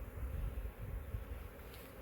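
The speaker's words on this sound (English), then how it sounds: "you can see all the bees flying around here" Honey bees from a freshly landed swarm fly around in the open, a low steady buzzing hum with light wind noise across the whole stretch.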